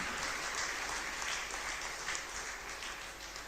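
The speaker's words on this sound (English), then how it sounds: "So let us give a big round of applause for Dr. Arivalagan and his entire team." Applause at a college alumni reunion meeting honouring a doctor and his team, a sustained crowd of many hands clapping at moderate level, steady for several seconds before tapering slightly at the end.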